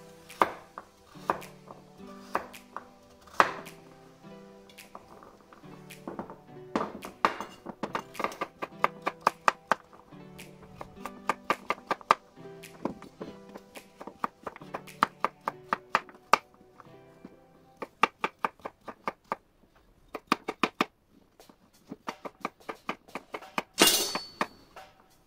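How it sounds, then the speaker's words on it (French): Knife chopping peeled carrots into roughly one-centimetre pieces on a board: crisp, irregular clacks in bursts with short pauses, close and clear, no talking. "Et on va les débiter en morceaux d'environ 1 cm."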